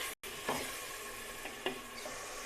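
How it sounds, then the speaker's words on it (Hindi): Tomatoes frying in a pan, a faint continuous sizzle with a few soft scraping stirs and light knocks of a utensil against the pan, quiet and close with no talking. "1 मिनट तकरीबन मैंने टमाटरों को फ्राई किया।"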